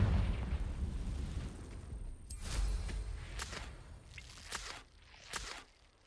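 Confringo blasting spell in Hogwarts Legacy on PS5, heard as several sharp bursting blasts with crackling tails, spaced over a few seconds and fairly quiet.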